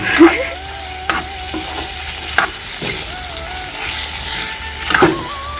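Potatoes are added to chicken frying in a pan, producing a steady close sizzle with scraping stirs and clicks of the spatula, and no voices.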